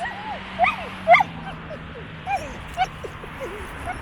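Several dogs at a dog park whine and yip in short bursts, with a couple of sharper barks, over a steady outdoor background hum.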